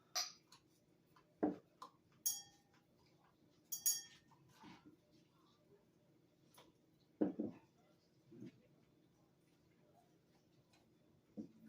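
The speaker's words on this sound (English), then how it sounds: "I will be adding my clear glasses from Crack and Barrel" Clear Crate and Barrel drinking glasses set down on a table while a tablescape is arranged, giving a few faint, scattered glassy clinks and taps spaced apart in a quiet room, with soft talk in between.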